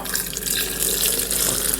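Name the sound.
water poured into vessel with bananas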